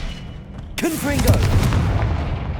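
A Confringo fire spell bursts in Hogwarts Legacy, a sharp blast hitting at once, then a dense roaring rumble with rising whooshing tones that stays loud to the end, alongside a voice casting the spell.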